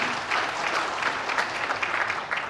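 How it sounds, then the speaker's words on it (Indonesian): Sustained applause from an audience at a labor federation gathering in Indonesia, steady dense clapping throughout at moderate level with no one speaking over it. "Tepuk tangan dulu untuk Banten."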